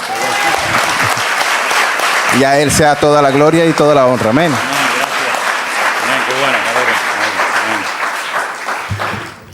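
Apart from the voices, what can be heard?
church congregation applauding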